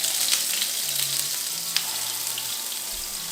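Burgers sizzle on a very hot cooking surface, a steady close hiss with a few faint clicks and pops.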